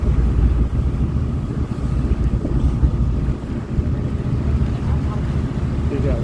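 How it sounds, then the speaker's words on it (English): Boat sailing out toward the Holy Rocks (Helligdomsklipperne) off Bornholm, Denmark, on an autumn day, with a steady low rumble of engine and water and heavy wind buffeting the microphone throughout. "Our day three started by sailing to Helidom's Klippene"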